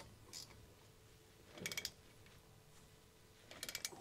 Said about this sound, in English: get these tightened in easily with a ratchet